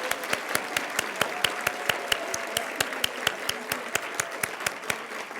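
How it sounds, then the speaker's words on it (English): A small group at a meeting applauds to welcome new members, with sparse, evenly spaced claps over a faint, steady background for several seconds. "Let's give them a round of applause and welcome."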